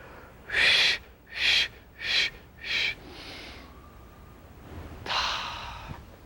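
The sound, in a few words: short breaths during a stretching breathing exercise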